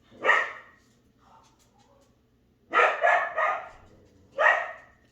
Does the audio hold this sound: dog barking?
yes